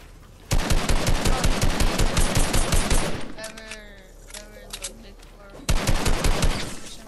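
Rapid automatic gunfire from a duos box fight video game, loud, dense bursts for about three seconds, a brief lull with softer tonal game sounds, then another sustained burst near the end.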